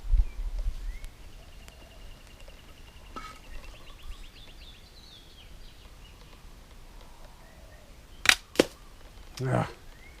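A homemade, upgraded crossbow fires two bolts in quick succession during a rate-of-fire test: two sharp, close snaps about a third of a second apart, then a duller impact a second later over quiet outdoor background.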